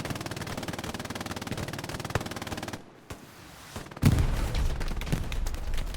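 Rapid, evenly spaced machine-gun bursts in an 18-versus-18 Hell Let Loose match, fired at houses and distant enemies, then a brief lull before another loud, closer volley of shots.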